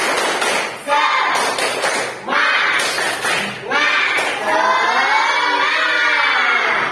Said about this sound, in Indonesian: Dalam hitungan ketiga, tepuk semangat.